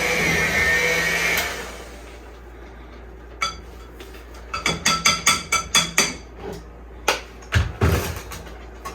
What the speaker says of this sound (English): you can hear the mixer starting to slow down as it's thickening up